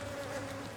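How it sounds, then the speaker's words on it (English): Honey bees swarm thickly around an open hive during an inspection, giving a steady, close, droning buzz with a sustained hum throughout the brief moment. "they're bound determined to swarm again because there's so many bees here"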